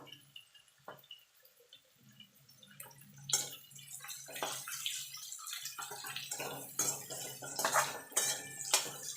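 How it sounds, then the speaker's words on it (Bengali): Onion and capsicum stirred in a pan make close clinking and scraping sounds that grow busier and louder partway through, with soft sizzling underneath and no talk. "পেঁয়াজটা ক্যাপসিকামটা মিনিট খানেক একটু নাড়াচাড়া করে নেব নরম হওয়া পর্যন্ত"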